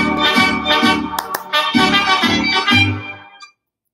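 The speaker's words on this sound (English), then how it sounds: "Did you hear the trumpets?" Brassy band playing section A of the Mexican folk song La Raspa, with bright trumpet lines over a bouncy rhythmic accompaniment, loud and steady before stopping abruptly near the end.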